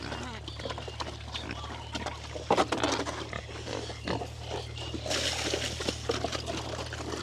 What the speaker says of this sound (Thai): มาให้อาหารน้องหมูเหมือนเดิมครับผม เป็นการเลี้ยงหมูป่าแบบ ปล่อยเนาะพี่น้องเนาะ